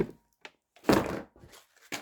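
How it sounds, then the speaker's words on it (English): Items tossed back into a box at close range, a few soft thunks and knocks spread unevenly over two seconds, with no speech. "let's chuck all the stuff back in the box"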